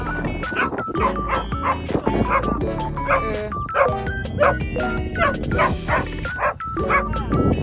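A dog barks repeatedly in rapid yips and bow-wows outdoors near a lakeside in Windermere, Lake District, loud and continuous over a background of music, with voices in between.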